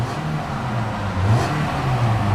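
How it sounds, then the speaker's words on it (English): A 2010 Toyota Corolla S engine revs up and settles, a continuous mid-pitched motor drone rising in intensity partway through, close and steady. "Revs up nicely, idles smoothly."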